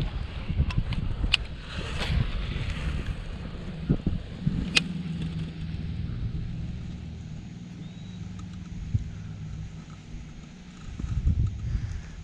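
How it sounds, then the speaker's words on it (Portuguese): Wind buffeting a microphone on a fishing boat on murky water during trairas fishing, a steady low rushing roar with a few sharp knocks and rattles near the start and no talking. "Agora começou o vento, né?"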